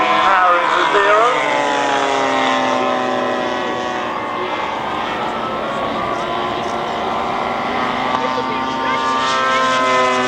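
A model Zero aircraft powered by a Solomar 70 engine flies at a model air show, its loud, whining engine note rising and falling in pitch as it passes, with people talking nearby.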